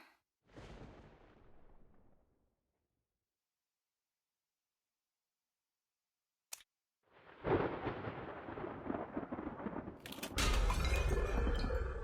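Thunder crashing on a stormy night in the video game Identity V: a loud rumbling clap that fades away, a sharp crack after a pause, then a long heavy roll of thunder that swells louder near the end.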